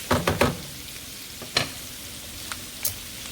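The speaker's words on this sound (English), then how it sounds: "pan fried asparagus" Asparagus and garlic sautéing in a skillet, with a few sharp stirring and sizzling bursts near the start and scattered crackles later over a low, steady frying hiss. No talking.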